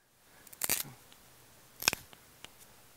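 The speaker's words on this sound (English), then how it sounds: "I'm going to cut it just past my fingers right there, and that chunk right there is going to be my bow." A wooden branch is cut to length to make a bow for a bow drill, with two sharp close snipping cuts about a second apart and a few faint ticks between, in quiet surroundings.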